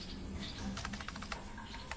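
A few quick keystrokes on a computer keyboard as a file name is typed, soft clicky taps in a short burst over a quiet room hum.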